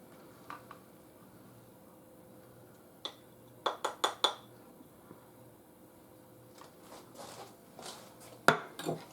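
Slices of apple oatmeal bake lifted from a baking dish, heard as a few sparse clinks and scrapes of a utensil against the dish, with a quick cluster of taps in the middle and a sharper knock near the end, all fairly quiet.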